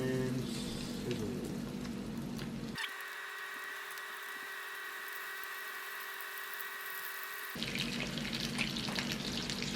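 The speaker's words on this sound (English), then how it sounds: "and sizzle." Chicken cutlets sizzle in hot frying oil with a steady, loud crackling hiss. It stays dense and continuous, with the sound cutting to a thinner, even texture midway.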